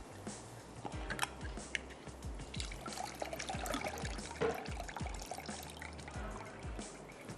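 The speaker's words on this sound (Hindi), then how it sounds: "इसका जो पानी है वो हमें नहीं चाहिए, तो मैं उसको निकाल लेती हूँ।" Liquid from canned Dew Drop mushrooms pours and trickles out in a quiet, steady stream, faint and continuous under low kitchen background noise.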